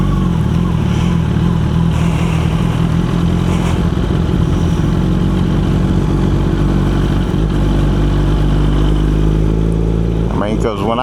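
A small engine runs steadily and loudly with a tightened header pipe, giving a continuous close rumble with some clatter. Near the end it briefly picks up before easing off.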